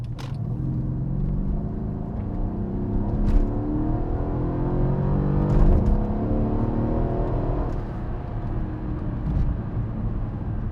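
A 2012 Mercedes-Benz CLS63 AMG engine accelerating from inside the car: a smooth, deep growl rises steadily in pitch through the gears, moderately loud with no talk over it.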